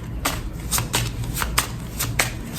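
A Maria Padilha card deck is shuffled close up in quick, rhythmic riffles, about eight crisp bursts in a row, alone and fairly quiet.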